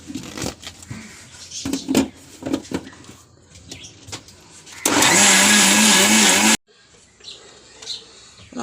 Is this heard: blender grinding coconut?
yes